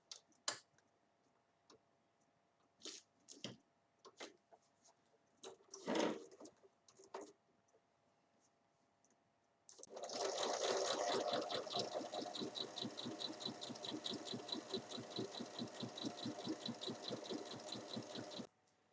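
A sewing machine stitches the side of a fabric hanging basket, a fast steady run of rapid mechanical ticks lasting several seconds, close and alone, after scattered handling clicks and rustles.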